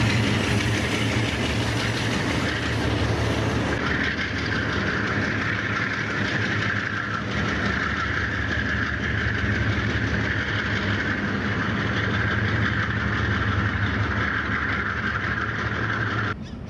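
Pair of C-30 diesel locomotives climbing the mountain grade toward Acultzingo, a loud, steady engine drone and rumble that holds unbroken throughout, close by and with no voices.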